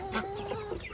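Turkeys cluck close by in a short, lively burst of clucks and chirps, with no talk over them.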